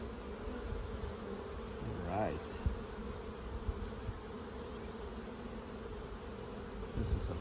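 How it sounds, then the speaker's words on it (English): Honeybees drone steadily around an open hive while it is being split, a dense continuous buzz with one bee swooping close and loud, and someone briefly speaks over it. "There's an angry bee there."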